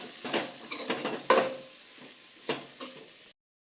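Noodles with vegetables and eggs get stirred in a pan, several irregular clattering scrapes and knocks of utensil on metal over a faint sizzle, close by.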